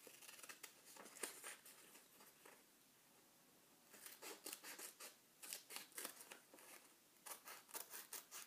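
Scissors snip through paper during a bee-themed craft: a quiet run of crisp, repeated cuts in uneven bursts, close by, with no talking.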